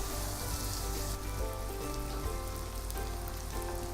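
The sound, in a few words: chicken being fried (bhuna) in a pan with a little water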